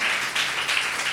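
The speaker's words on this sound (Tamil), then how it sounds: "கைத்தட்டுங்க, நல்லா நல்லா கைத்தட்டுங்க" A church congregation claps hands together in a dense, continuous wash of applause that holds steady and fairly loud for the whole moment, with no voices rising above it.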